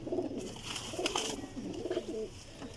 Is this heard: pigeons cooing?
yes